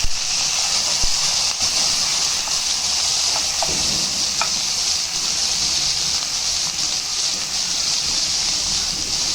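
Onions frying in a pan for Tamil mochai payaru sambar, a steady broadband sizzle with a few faint stirring scrapes, moderately loud and continuous with no talking.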